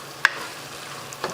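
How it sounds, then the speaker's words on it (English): Crushed tomatoes go into a pot of simmering ragù with a soft wet plop and a light clatter, then a faint stir near the end, no voices. "let's go ahead and add this crushed tomato"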